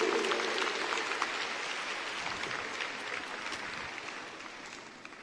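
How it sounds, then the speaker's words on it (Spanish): Dense, steady applause from a church congregation during a Spanish-language sermon fills the whole stretch, loud and close, with a rough wash of many hands clapping at once and no clear voice above it. "dale un aplauso fuerte a nuestro Rey"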